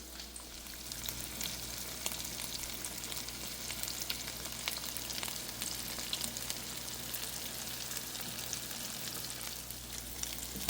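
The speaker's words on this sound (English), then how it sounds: "we're gonna sear our crab meat for about 3 minutes per side" Crab cakes searing in a hot pan give a loud, steady, continuous sizzle that stays close and even throughout, over a faint low hum, with no talking.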